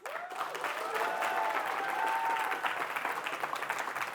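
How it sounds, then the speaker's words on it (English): Audience at the end of a Stanford Political Union talk breaking into sustained applause, a steady wash of many hands clapping at a moderate distance, with a faint voice or two early on. "Can we give one last round of applause?"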